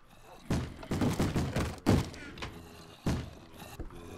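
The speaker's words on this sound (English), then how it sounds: "Where are they breaking down doors?" Zombies pounding on wooden doors in the Minecraft video game, a series of loud, heavy thuds and knocks in irregular bursts, close and booming, with faint background game noise between hits.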